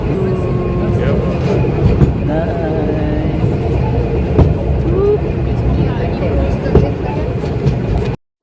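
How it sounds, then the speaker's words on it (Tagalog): Steady rumble and rattle from inside a steam train rolling through the Netherlands, with continuous track noise and occasional clunks, close and loud throughout, stopping abruptly at the end. "Here in the steamer train."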